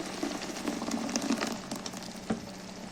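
About a kilo of tomatoes going into a hot pan over caramelised onions for a tripe and chickpea dish, giving a soft steady sizzle with scattered pops and a few stirring clinks, faint and close.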